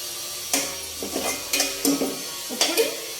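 A spoon scrapes and knocks against a pan as tomato and onion curry is stirred, five or six distinct clinks and scrapes in an irregular rhythm over a low background hiss, close and moderately loud.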